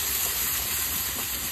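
Ingredients sautéing in a covered pan, giving a steady, even hiss of steam and sizzle that runs unbroken and fairly loud, with no voice.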